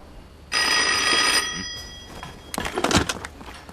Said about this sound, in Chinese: 顾司令，今天怎么有空给我打电话呀？